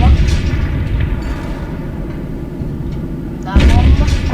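Bombs detonate in Teardown, the voxel destruction game, as a town is blown apart: a long, dense roar of blasts and rumbling debris that fades slightly, then a fresh loud burst near the end.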